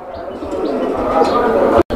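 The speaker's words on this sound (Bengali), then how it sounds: "এটা একটা হোমা কবুতর।" Homing pigeons coo in soft low rolling calls close by, with a steady background hum and a brief cutout near the end.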